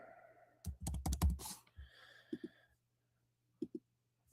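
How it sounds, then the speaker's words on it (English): Fast bursts of keystrokes on a computer keyboard during a clumsy typing rush, clustered clicks up close followed by a pause and a couple of isolated taps, with no talking. "my big sausage fingers are typing everything wrong"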